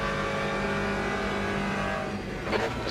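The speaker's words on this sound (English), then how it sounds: "There's a faster class car approaching." A faster-class race car in Le Mans Ultimate approaches with a steady, droning engine whine that holds level and rises slightly near the end, over a continuous racing background.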